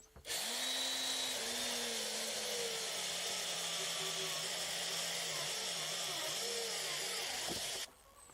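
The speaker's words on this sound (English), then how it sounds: "So get the drill," A power drill whirs loud and close as it bores a hole into a vertical strawberry tower planter, a steady high whine with slight pitch wavers that stops abruptly near the end.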